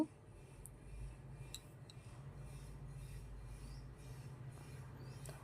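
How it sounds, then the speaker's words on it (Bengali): Tomato paste and ginger being stirred in a pan for a vegetarian okra dish, a soft continuous scraping and rasping close by with faint metallic ticks, no talking. "টমেটো কাঁচা গন্ধ না যাওয়া পর্যন্ত নেড়ে নেবো"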